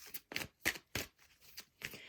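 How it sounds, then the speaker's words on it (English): Tarot cards being shuffled by hand, a quiet series of crisp riffling bursts in an uneven rhythm, close and alone. "So let's shuffle and we'll pull some more cards for this masculine energy."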